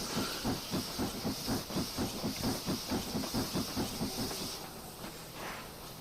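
An LNER V2 steam locomotive on the Woodhead Route in Train Simulator Classic, beating past with a rhythmic chuffing exhaust over a steady steam hiss, close and fairly loud, with the beats fading away after about five seconds.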